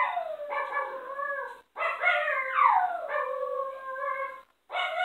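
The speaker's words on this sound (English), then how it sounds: "these dogs are like howling." Several dogs howl together in long, wavering, rising and falling cries, loud and close, with brief pauses between the drawn-out notes and no talk over them.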